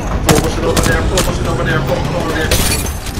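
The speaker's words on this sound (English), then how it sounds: "I'm taking the shot" Loud gunfire from the video game Apex Legends, several sharp shots in quick succession at close range, overlapping a player's speech.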